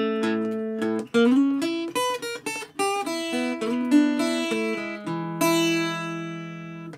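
Guitar slowly picks the A part of a blues melody, single notes and short bends ringing one after another with some sustained tones, played alone at a moderate, even level with no talking.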